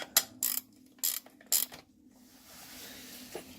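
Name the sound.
ratchet wrench turning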